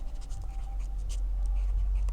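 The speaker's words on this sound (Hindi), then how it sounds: "तो मैं यहाँ पर लिखता हूँ अब" A pen or marker scratches steadily across paper or a board as a maths problem is worked out, a soft continuous writing sound heard close up over a low, constant background hum.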